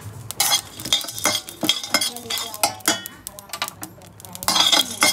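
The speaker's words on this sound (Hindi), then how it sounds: "अब इन सबको हम धीमी आंच पे कढ़ाई में भून लेंगे" Cloves and chilies dry-roasting in a kadhai over a low flame, with close, irregular scraping and clinking of a utensil stirring the spices against the metal pan.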